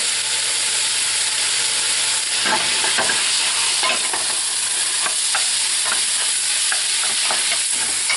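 Sausage meat, taken out of its casing and seasoned with salt and pepper, browning in a pan: a loud, constant sizzle close by, with scraping stirs from a utensil breaking up in the middle.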